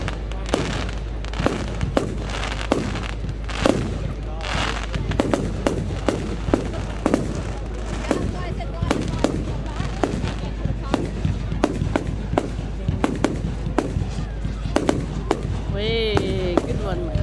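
Bonfire night fireworks burst in a rapid string of sharp cracks and bangs, some crackling, heard close and continuous, with excited voices and a whistle-like rising tone near the end.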